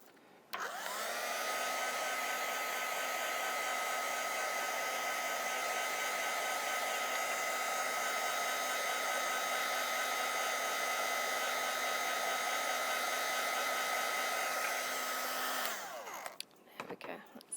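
A craft heat tool blows over paint on a mixed media plaque in one steady, close whirring roar of about fifteen seconds. It switches on abruptly and cuts off near the end, followed by a few light handling clatters.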